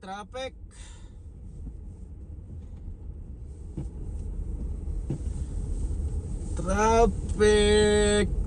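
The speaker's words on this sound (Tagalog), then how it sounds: "Traffic." Road traffic heard from inside a second-hand car in Edmonton, Alberta, a steady low engine and tyre rumble that swells near the end, with brief tonal whines or horn-like sounds passing close by.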